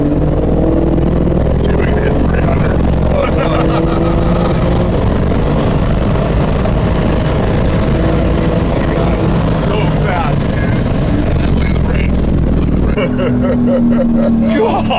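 A Porsche GT2 RS launches hard down an airfield drag strip, its loud, sustained engine roar and tire noise dominating close by while voices shout over it.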